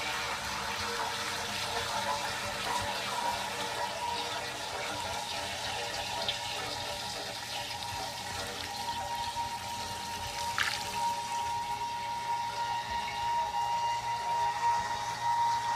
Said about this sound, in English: I'm going to add more ethanol.